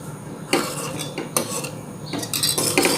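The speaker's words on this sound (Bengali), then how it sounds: "এটাকে অনবরত নাড়তে হবে, আর ফ্লেমটা থাকবে লোয়ের দিকে" Chocolate syrup stirred continuously in a pan over a low flame, a spoon scraping and clinking against the metal in a few sharp, close strokes over steady faint bubbling.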